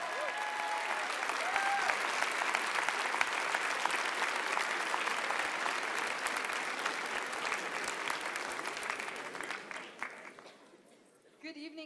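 Sustained audience applause after a TEDx talk, a dense wash of clapping that holds steady and loud for about ten seconds before thinning out and fading near the end.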